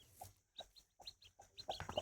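A brooding hen that sat on fifteen eggs clucks in short, close, rhythmic bursts, about eight quick clucks in two seconds, with faint higher peeps mixed in near the end.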